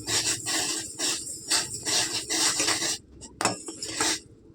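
A spoon stirring milk into sugar water in a metal pot, with continuous close scraping and clinking in rhythmic strokes that pause briefly near the end before a few more scrapes.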